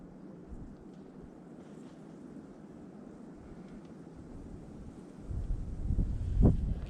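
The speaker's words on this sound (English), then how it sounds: "The wind's picking up right now." Wind blowing outdoors near a creek in the woods, a steady low rumble that gusts and grows louder toward the end, with no talking.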